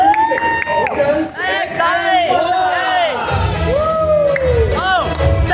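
An excited crowd cheering and whooping for a band performing at Ocean Park, with loud shouts and high rising yells overlapping in a continuous roar, close and energetic, a low rumble joining partway through.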